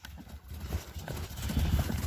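Hooves of an Orlov trotter horse clip-clop in a quick, steady rhythm, fairly close and moderately loud, with faint low rumble underneath.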